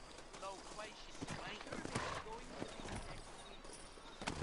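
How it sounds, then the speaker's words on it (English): Horses clip-clop at a slow walk in a Western-style video game, soft hoof knocks under ongoing talk, with light footsteps and faint background movement. "You ain't gonna find sturdier horses than these in all of New Ulm."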